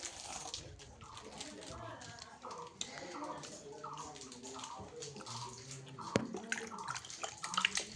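Tap water runs and splashes while hands are washed, a continuous watery rush with small drips and clatters, and a voice speaks over it near the end.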